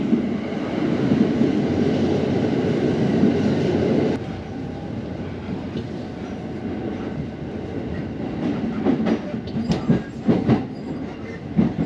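A JR Uchibo Line rapid train bound for Kimitsu rumbles steadily along the rails, with a dense low roar and clicking wheel noise that grows more uneven toward the end; no one speaks.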